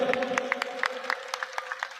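Audience applause at a political party gathering, a short burst of scattered hand claps, moderately loud and steady through the whole stretch.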